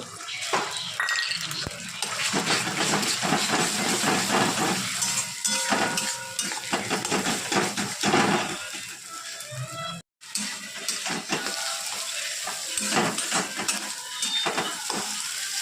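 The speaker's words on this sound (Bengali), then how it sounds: "এবার ডিমটা আমি এর মধ্যে দিয়ে দিচ্ছি।" Beaten eggs fry with onions in a pan for egg bhujia, giving a steady, close sizzle with clattering stirring and scraping throughout and a brief break near the end.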